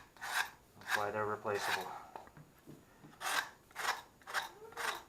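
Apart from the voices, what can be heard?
drywall knife back scraping drywall patch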